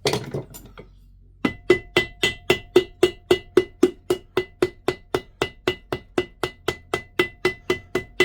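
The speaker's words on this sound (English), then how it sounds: "you can sometimes use a ball peen hammer" A ball peen hammer taps repeatedly on metal during a Crossley compressor head rebuild, about twenty-two sharp ringing strikes at a steady, even pace, close and clear after a brief quiet start.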